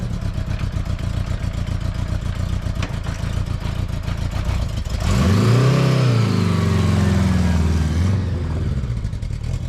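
1976 Honda Goldwing LTD motorcycle out on a ride, its engine pulsing steadily and then rising and falling loudly through a gear change, close up with wind, no talk.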